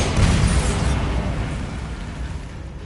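Bombarda spell in the Hogwarts Legacy video game, a single heavy deep explosion boom that rumbles loudly and then slowly decays.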